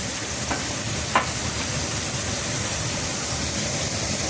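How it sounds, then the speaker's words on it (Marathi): Bombay duck (bombil) fish frying in oil makes a steady, dense hiss with a couple of faint clicks near the start and no voices. "आता हे तळते."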